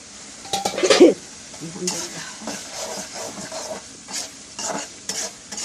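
Tomato tipped into a spice paste already frying in a pan, a loud splash and burst of sizzle at the start, then ongoing crackling fry with spoon scrapes against the pot.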